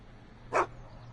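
A single short dog bark from a cartoon scene, one quick yelp-like burst rising out of a quiet background and fading fast, with no voices.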